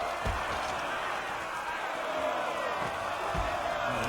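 Dense crowd murmur in the video game Assassin's Creed 3, a steady close wash of many voices and bustle with a few scattered thumps, loud and continuous throughout.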